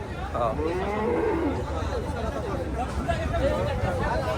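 Cattle lowing amid a busy crowd, with overlapping moos and general chatter filling a noisy outdoor livestock market.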